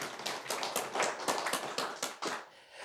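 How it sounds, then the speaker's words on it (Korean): A church congregation applauds during a sermon, with a quick run of rhythmic claps that stays fairly faint and distant, then trails off near the end. "박수요, 박수."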